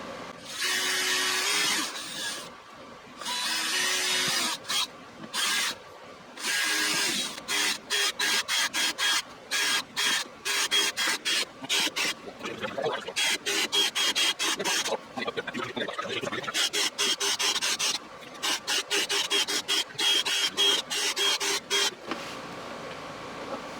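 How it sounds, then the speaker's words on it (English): A power drill whines in repeated bursts, stopping and starting many times as it bores holes through the side of a plastic box, close and loud. "we're going to start drilling all of our holes in the side of our box"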